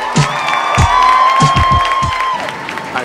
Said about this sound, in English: Please give a big round of applause for my man,